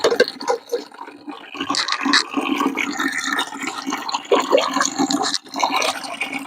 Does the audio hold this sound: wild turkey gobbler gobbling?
no